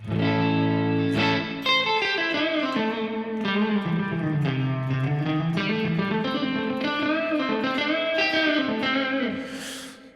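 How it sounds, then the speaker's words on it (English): A heavily distorted electric guitar through an STL AmpHub amp simulator plays sustained chords and a melodic line, drenched in a wide doubled chorus and big, spacious reverb, loud throughout. "let's make it sound absolutely massive and just add reverb to that double sound"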